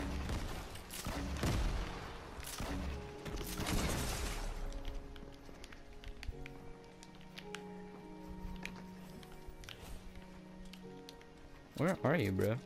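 Gunfire in Fortnite: several loud bursts of shots and booms early on, then quieter distant shooting, with a person talking briefly over the game sounds near the end.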